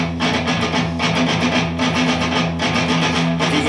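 A loud, distorted electric guitar tuned low chugs a fast, steady alternate-picked riff in repeating bursts with a heavy, dense tone.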